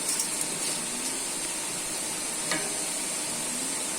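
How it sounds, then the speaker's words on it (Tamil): Mutton biryani masala being stirred in a pot, a steady sizzling hiss with faint scraping and a couple of soft stirring knocks, close and moderately quiet, with no talking. "நல்லா கிண்டி விட்டுக்கலாம்."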